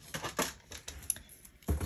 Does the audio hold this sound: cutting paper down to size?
yes